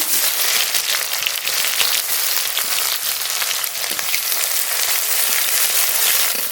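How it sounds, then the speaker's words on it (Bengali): Chopped onion frying in hot mustard oil with bay leaf and whole cumin, a steady, loud, close sizzle with no pauses and no talking. "পেঁয়াজটা একটু হালকা করে ভেজে নেব"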